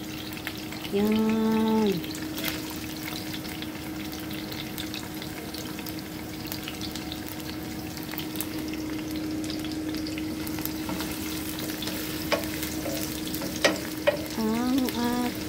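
Crabs in coconut milk simmer and sizzle steadily in a pan while being stirred, a continuous bubbling hiss with occasional scraping, and a brief voice is heard near the start and end.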